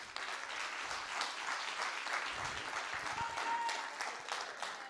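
An audience at a church sermon claps hands steadily and continuously, a dense, even wash of applause at moderate distance with no talking over it.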